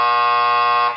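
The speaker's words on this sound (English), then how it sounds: "Call it out before the buzzer." A game-show style buzzer blares as one loud, steady harmonic tone for about a second, cutting off abruptly at the end, with no talking.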